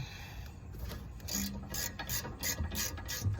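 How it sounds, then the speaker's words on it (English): A ratchet unscrewing the last brake bolt on a BMW E90, a close, rhythmic series of clicking pawl strokes with gritty rubbing between them. "I'm just unscrewing the last bolt."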